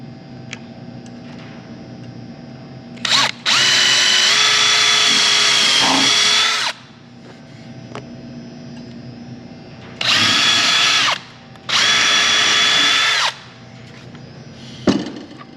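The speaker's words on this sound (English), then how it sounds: "Re-drill these holes because it's walnut, it's hardwood." A DeWalt power drill whirs in several bursts, re-drilling holes in walnut hardwood with a high motor whine, separated by quiet pauses and a few small taps.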